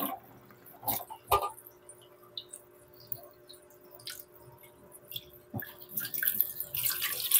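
Raw chicken is rinsed under a running kitchen tap before cutting for adobo, with faint trickling water, soft squishy handling and a few sharp knocks against the sink, rising to a louder splash near the end.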